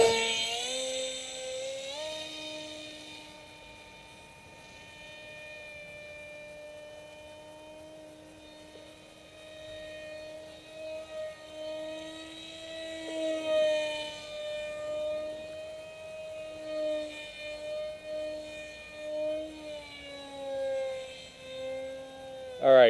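RCPowers F35 RC model jet flying overhead, a steady whining motor tone with clear harmonics that holds level, shifts slightly in pitch as the throttle changes, and swells in loudness later in the flight.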